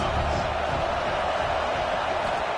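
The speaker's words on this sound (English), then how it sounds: "This crowd trying to make life miserable for this offense." A football game crowd roars at a preseason tournament, a steady, dense wash of noise that holds at full level throughout with no breaks.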